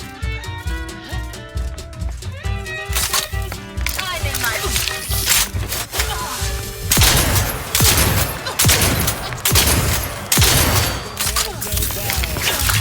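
Gunfire in The Outer Worlds 2, with a steady stream of loud, rapid bursts mixed with booms and game music, while voices speak over the shooting.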